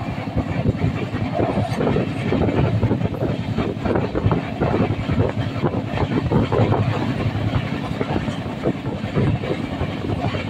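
Steady, loud rumble of a passenger train running on rails between Deoband and Ghaziabad, heard close from inside, with faint rhythmic clatter of the wheels and no pauses across the whole stretch.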